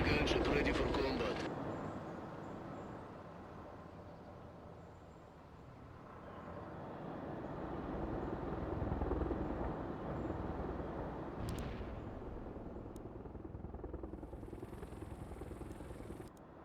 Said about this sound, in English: Heavy attack helicopter is inbound.